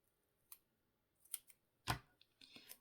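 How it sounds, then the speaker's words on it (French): A few crisp scissor snips, close and quiet, come in an uneven sequence with short pauses between cuts. "Ciseaux, ciseaux là."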